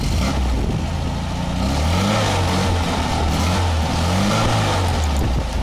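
A 1974 MGB's engine revs steadily and loudly close by, a continuous mid-pitched drone rising and falling slightly throughout with no talk.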